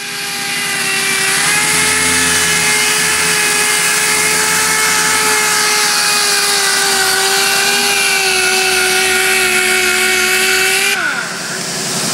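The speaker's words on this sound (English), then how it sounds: "what we're doing is we're sanding because we had a little mess up with the flaming" A power sander grinds steadily across a jet boat hull, a loud close continuous whine with a faint rumble beneath, holding for about eleven seconds before it spins down at the end.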